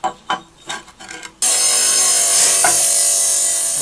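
A small angle grinder cuts flat-laid ceramic tiles for a vaulted ceiling. A few sharp taps come first, then the blade bites in with a loud, continuous high-pitched whine that holds steady to the end.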